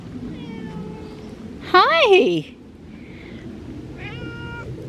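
An orange cat in ferns lets out one loud, drawn-out meow nearby, and a person speaks a short greeting at a lower volume.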